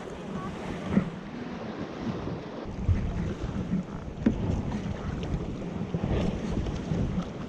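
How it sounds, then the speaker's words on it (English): Lake Superior waves slosh and thump into small sea caves beneath the cliffs of Pictured Rocks, heard from a boat as irregular hollow knocks under constant wind buffeting. "I like the sound of the waves crashing underneath of those little caves in there."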